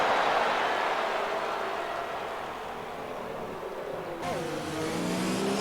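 Racing cars in a video game of the Spanish Grand Prix roar past, their engines droning together at a distance, with a sharper engine whine rising near the end.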